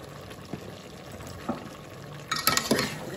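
A spoon stirs masala in a pot for veg dum biryani, making soft scraping and light sizzling sounds, with a few brief clinks and a busier burst of stirring near the end.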